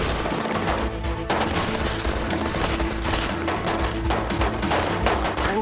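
Automatic rifle fed from standard 5.56 magazines firing in sustained bursts, a dense, loud clatter of rapid shots continuing almost unbroken from start to finish with no talking.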